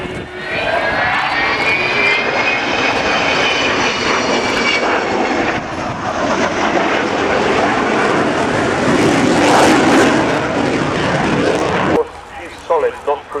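Avro Vulcan XH558 bomber flying past at about 160 knots at the Royal Air Tattoo 2009, a loud, sustained engine roar with rising and falling whine that fills the scene before cutting off abruptly, while a commentator talks over it.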